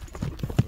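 A Kyrgyz horse, a purebred Karabair, clip-clops with a few distinct hoof strikes close by, thudding in an uneven rhythm over a quiet background.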